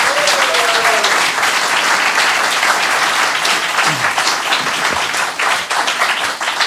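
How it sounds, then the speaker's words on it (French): Loud, dense applause from a studio audience fills the space steadily, welcoming a guest onto a Belgian local talk show, with a voice briefly rising through the clapping. "Merci d'applaudir Pascal Wautier."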